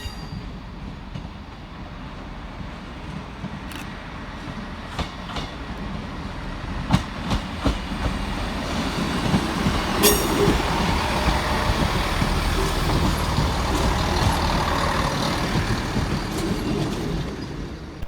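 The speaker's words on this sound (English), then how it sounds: "Arriving into the station 7 minutes late with a Transport for Wales service off Milford Haven is 158829" A Transport for Wales class 158 diesel unit rolls into a station, its engine drone and rail noise building steadily as wheels clatter over joints with a few sharp clicks and squeals, loud and close with no talking.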